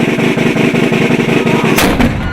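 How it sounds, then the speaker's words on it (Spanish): A cannon shot sound effect, the nightly 9 p.m. cannon blast, bursts out sharply near the end over a dense, rumbling bed of continuous sound, followed by a brief decaying boom. "Ya son las 9 de la noche y retumba nuestro cañonazo antiimperialista."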